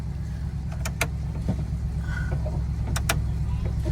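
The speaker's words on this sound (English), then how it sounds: "that 305 sounds great inside in the car" Idling V8 engine, a 305 in a 1980 Chevrolet Malibu, heard from inside the car as a steady low rumble filling the whole clip, with a few brief clicks over it.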